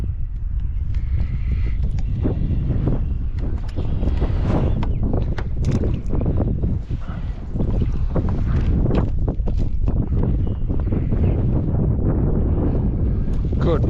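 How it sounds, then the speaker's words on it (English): Strong wind gusting over open water on a fishing outing, buffeting the microphone in loud, continuous rumbling bursts for the whole stretch. "I am so sick of the wind. I am done with the wind."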